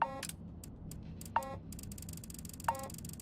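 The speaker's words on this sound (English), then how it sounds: "I remember this beeping." Electronic beeps from the video game Starfield: three short, bright tonal chirps spaced about a second and a half apart, fairly quiet over a low ambient hum, with faint softer blips in between.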